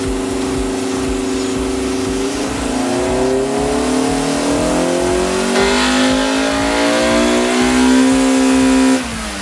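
A car engine revs hard through a dynamometer pull with the intake box open, its loud, close roar climbing steadily in pitch before cutting off abruptly near the end.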